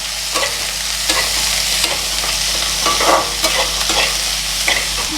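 Chopped shallots fry with browned coconut in a pan for a Kerala theeyal, a steady close sizzle broken by irregular scraping stirs, with no voices.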